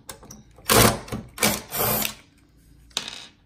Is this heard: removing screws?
yes